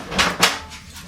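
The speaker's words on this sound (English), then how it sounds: "Go ahead, open the door, Brandon" A door opens with two quick knocking, rattling sounds close by, followed by a softer settling noise in a quiet room.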